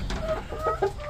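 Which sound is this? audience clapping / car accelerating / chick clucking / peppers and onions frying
chick clucking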